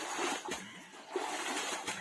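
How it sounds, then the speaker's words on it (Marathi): Water hauled up from a village well in Konkan splashes and sloshes in a few short bursts, close and moderately loud, with no voices over it. "असा पाणी काढला जाता"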